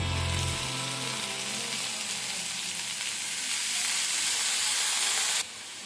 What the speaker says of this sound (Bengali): এবার এর মধ্যে আমি সেদ্ধ করে রাখা মোচা দিয়ে দিচ্ছি।